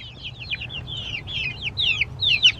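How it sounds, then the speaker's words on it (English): Chickens cluck and murmur in a flock in the dark, a run of close, overlapping chattering calls that grow slightly louder toward the end over a low background hum. "Chickens expressing their chickenness."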